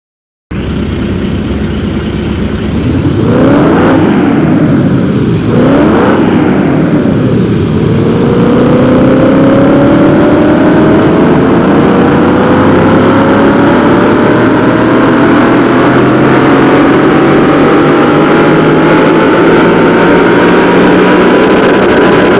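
Aston Martin DBX engine in Car Mechanic Simulator 2021 on a dyno, starting with a few sharp revs and then one long, loud, steady climb in pitch as it pulls through the run with no talking.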